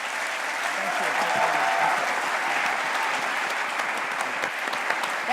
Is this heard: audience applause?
yes